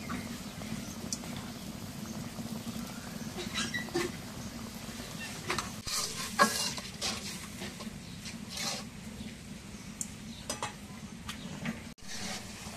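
Spice paste of garlic, onion and cumin fries in a pan with steady close sizzling, punctuated by scraping stirs and occasional sharp clinks of the spoon, no voices.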